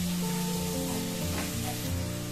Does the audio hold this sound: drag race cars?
no